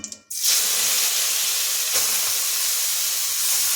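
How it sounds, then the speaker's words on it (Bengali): Grated carrot hits hot oil with a couple of bay leaves for carrot halwa, setting off a sudden loud, steady sizzling hiss that holds evenly for several seconds without any talk. "গাজরটা এখন খুব ভালো করে ভেজে নেব"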